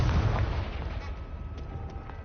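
A Confringo blasting spell explodes in the Hogwarts Legacy video game, a deep booming burst at the start that rumbles and fades over a couple of seconds, followed by a few light crackling pops.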